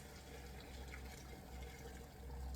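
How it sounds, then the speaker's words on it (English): Two cups of boiled water being poured into a pot of cooking mutton breyani, a steady continuous watery rush and splash that runs close and fairly loud through the whole stretch, with no talking. "I'm going to add 2 cups of water"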